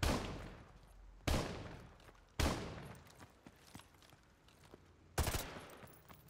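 Single gunshots in the remastered Modern Warfare 2 video game campaign: four loud, close blasts spaced a second or more apart, each ringing out with a long decaying tail. No voices can be heard.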